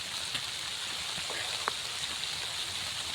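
Steady rain falls outdoors near a farm field, a dense continuous hiss with a few distinct drips and taps standing out.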